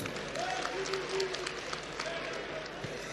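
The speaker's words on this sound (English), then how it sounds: "So please give the president a round of applause for this." Crowd applauding the president at a youth rally in Jigawa, a steady, fairly faint wash of clapping from a distance, with voices mixed in.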